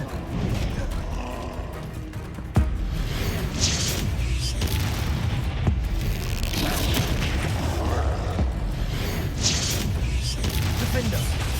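Spell explosions from Bombarda in the Hogwarts Legacy video game, a sharp boom onset followed by dense, continuous rumbling blasts and roaring effects with sporadic cracks, loud and sustained throughout.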